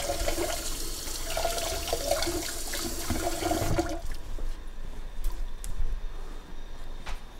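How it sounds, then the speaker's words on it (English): Water runs from a tap as a vegetable is rinsed beneath it, a loud, splashy stream for about four seconds that then drops to a softer trickle with scattered drips and handling noises. "we'll go ahead and rinse this up a little bit just to be on the safe side"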